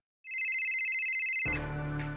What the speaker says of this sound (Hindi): किसका मोबाइल बज रहा है?